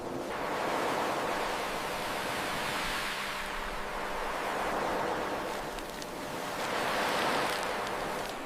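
Calm ocean surf washes in steady broad swells, rising and easing in slow cycles with a soft hiss, continuous and moderately near with no voices.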